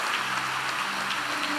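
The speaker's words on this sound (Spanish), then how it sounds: "Dame un aplauso al Señor" A church congregation applauding in praise, dense hissing clapping that holds evenly from start to finish with no voices on top.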